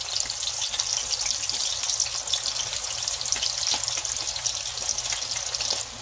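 Onion, thyme and green scallion fry in a hot pan, giving a steady, bright sizzle that crackles continuously at close range and drops slightly just before the end.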